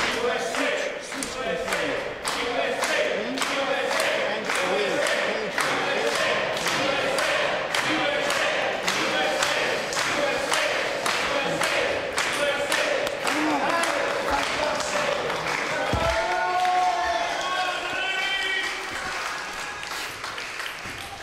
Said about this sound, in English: You can hear the crowd urging Lily on, urging her to fight back from this 0-2 deficit